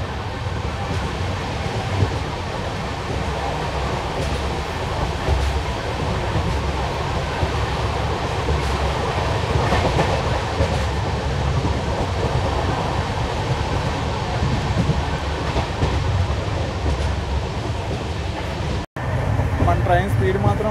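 The 12755 Kakinada Port–Bhavnagar superfast express runs at close to 110 km/h, a loud, steady rolling roar and rattle heard from on board that continues for the whole stretch, with one brief dropout near the end.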